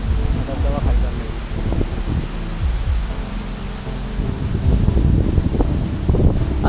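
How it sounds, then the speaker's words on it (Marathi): Strong wind gusting hard across an exposed mountain fort near a waterfall, a steady loud roar with buffeting rumble on the microphone throughout, rising near the end, with faint voices mixed in. "हवा भरपूर आहे, म्हणजे या हवेने कळसुबाईची आठवण आणून दिली. एवढी मजबूत हवा आहे,"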